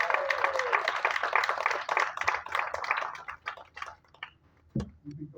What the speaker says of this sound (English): Give her a big round of applause as she comes up to the stage.